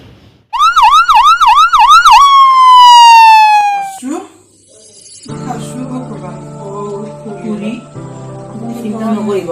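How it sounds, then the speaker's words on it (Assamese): An ambulance siren wails loudly in a fast rising-and-falling yelp, then shifts to a long descending tone before fading, followed by voices talking over a low background hum. "এম্বুলেন্স।"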